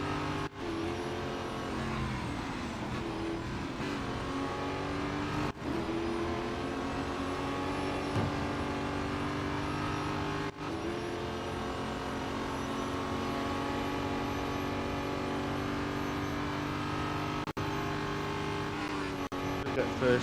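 Race cars roar continuously through a lap in the Real Racing 3 mobile game, a steady, loud engine drone with shifting revs and a few brief dips, no pauses.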